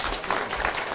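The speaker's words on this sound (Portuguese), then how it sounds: "Uma salva de palmas para o seu João Salge aqui" Brief burst of crowd applause at a 64th anniversary celebration of the Mercado Municipal Central in Osasco, many hands clapping together, moderately loud and close, lasting about a second.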